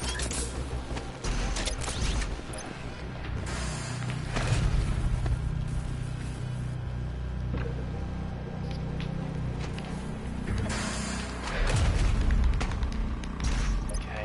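Frag grenade blasts in the video game DOOM Eternal, with several deep booms and thuds rising out of dense, loud combat noise, the heaviest bursts landing early, in the middle and near the end.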